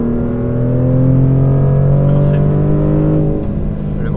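Maserati GranTurismo Modena V6 engine, a loud droning hum that climbs steadily in pitch as it revs, heard close with a deep steady tone and a voice faintly present beneath.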